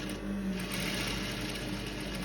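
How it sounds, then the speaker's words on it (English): A sewing machine runs steadily, stitching fabric for a shirred off-shoulder dress, with a continuous close mechanical whir and rapid needle chatter. "so you start sewing"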